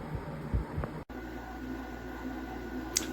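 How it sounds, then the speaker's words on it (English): A Waykar 80-pint Energy Star home dehumidifier running on low speed gives a steady, even fan hum and airflow noise throughout, with a couple of faint knocks near the start. "Right now it's running on low speed, and we'll see if we can get that going for high speed."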